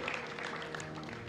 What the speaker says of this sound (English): It's a good point to clap.